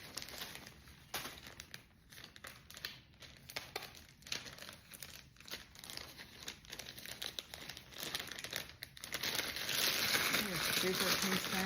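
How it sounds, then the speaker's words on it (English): Plastic mailing bag crinkling and rustling up close as its cut edge is closed with tape, irregular crackles growing into a louder rasp of tape pulled near the end, with a voice talking over it. "I'm going to tape the edge of the bag that's basically closing the cut that I just made"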